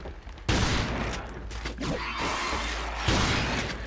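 A shotgun in the video game Resistance 3 fires two loud, close blasts a few seconds apart, with mechanical clatter and rumbling noise from the game between them.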